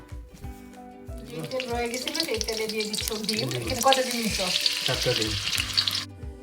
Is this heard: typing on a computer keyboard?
no